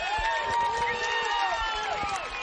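Crowd noise from the stands at a high school football game between Leo and Bellmont during a fourth-and-goal defensive stand, a steady roar running under a commentator's continuous play-by-play.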